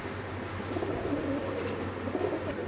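Pigeons at a pigeon farm keep up a low, steady cooing, continuous and fairly close throughout, with a constant droning hum underneath.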